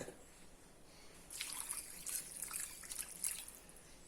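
Water is poured into a cooking pot, a soft trickling splash that starts partway through and continues quietly, with faint dripping.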